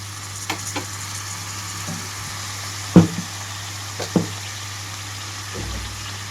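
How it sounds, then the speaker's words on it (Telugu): Cut cauliflower and tomato pieces go into a hot pan and fry with a low, steady sizzle, broken by a few sharp knocks and stirring clatters. "ఇందులోకి అయితే కట్ చేసి పెట్టుకున్న క్యాలీఫ్లవర్ ముక్కలు మొత్తం వేస్తున్నాను"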